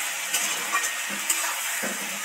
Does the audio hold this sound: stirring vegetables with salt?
yes